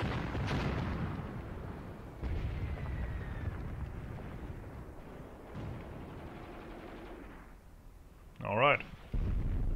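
A Russian artillery barrage in Graviteam Tactics booms in several heavy, rumbling blasts spaced across the stretch, with a sharper whistling impact near the end and someone talking over it.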